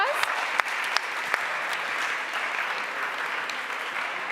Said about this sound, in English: So warm applause.